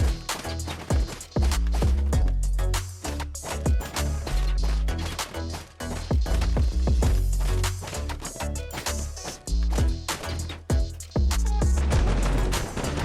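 Rapid booming blasts from video game cannons in a Hover Tank battle, firing in dense repeated volleys over a steady low rumble, loud and close throughout with no talking.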